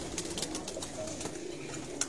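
Flying pigeons kept by a hobbyist coo softly in a short snatch, a low murmuring call over faint background noise with a brief chirp near the end.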